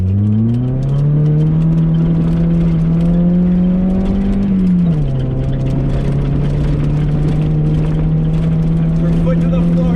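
Mazda Miata revving hard off-road in second gear, a loud, sustained engine drone whose pitch climbs, dips briefly, then holds steady, with a voice heard at times.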